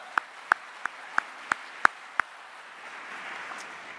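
At a music publishers' annual meeting, about seven sharp, evenly spaced single claps ring out over low room tone before fading into a faint murmur.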